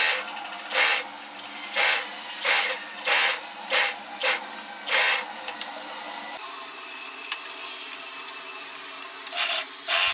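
A sewing machine stitches around a frock's lining in short bursts, each whirring run separated by brief pauses, followed by a quieter stretch with faint handling noise.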